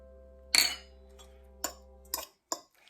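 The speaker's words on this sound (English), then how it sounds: "Mix it together." Warm pasta being stirred with beaten eggs and Parmesan in a dish, giving a few separate clinks and scrapes of a utensil against the bowl over a low hum, about five knocks spread unevenly.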